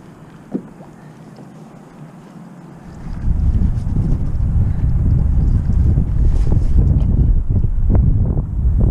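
On a windy April day, wind gusts over Franklinville Lake in New Jersey around a Hobie Outback kayak, starting low and then rising into a loud steady rush against the microphone.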